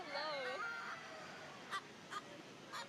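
A chicken warbles and clucks in wavering tones at first, followed by three short, sharp squawks spaced apart, fairly close, at a county fair.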